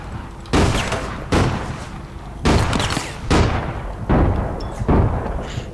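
Shootout in the online game APB Reloaded, with six loud, booming gunfire bursts spaced roughly a second apart, each trailing off into a short echoing decay.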